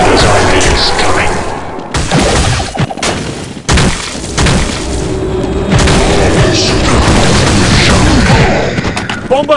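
Grenade explosion in a Counter-Strike zombie escape mod: loud booming blasts and crashing impacts over dense, continuous gunfire, with voices talking over the chaos.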